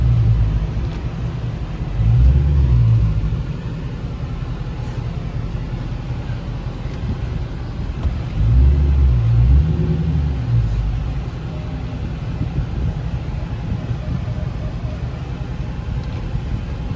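A Dodge Challenger Scat Pack with catless, straight-pipe exhaust rumbles deep and loud at idle, swelling twice into heavier revs before settling back to a steady low drone.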